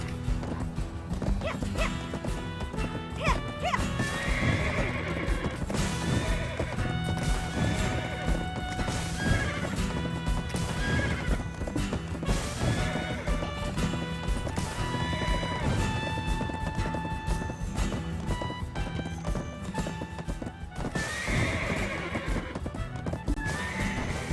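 A horse in the video game Black Desert gallops with rapid clip-clopping hooves and lets out several loud neighs and whinnies, over a continuous tonal backdrop with no talking.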